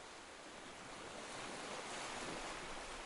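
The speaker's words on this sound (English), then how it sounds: "You hear the rhythmic sound of small waves softly onto the shore, flowing in a peaceful pattern" Small ocean waves wash softly onto a shore in a continuous, gentle hiss that swells slightly, faint and broad with no voices.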